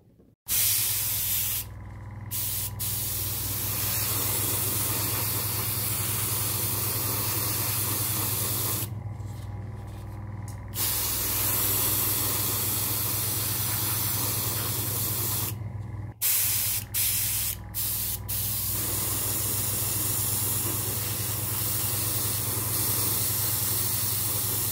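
An airbrush sprays Vallejo light grey paint for pre-shading the internal bays of a Bandai Perfect Grade 1/72 Millennium Falcon model, giving a loud, steady hiss that runs almost without a break, stopping briefly a few times, with no voices.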